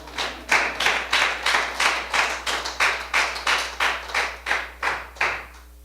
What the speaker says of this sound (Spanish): Dale un aplauso al hermano Mango.